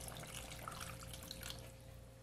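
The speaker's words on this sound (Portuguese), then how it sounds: "Agora pode acrescentar água, bem." Water pours steadily into a cooking pot holding crabs, a soft continuous splashing that stays fairly faint and even throughout, with no talking.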